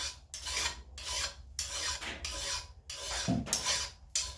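A metal file rasps along an axe blade in steady back-and-forth sharpening strokes, about nine rhythmic passes, close and clear with no talking.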